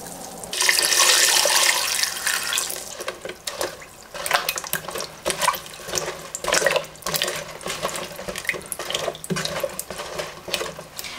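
Tap water runs into a container to cover fruit, a loud steady gush at first that turns into splashing and clinking against the vessel as it fills.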